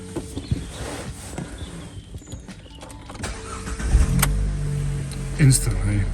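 A car engine cranks and catches near the end, rumbling low and steady after a stretch of idle cabin noise, close up with no speech.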